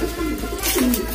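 Racing pigeons kept for a Sumbawa race coo nearby, a close, loud rhythm of low throaty pulses repeating about every fifth of a second, with faint background chatter.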